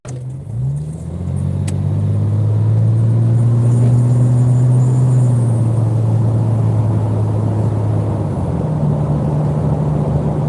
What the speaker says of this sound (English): Engine sound.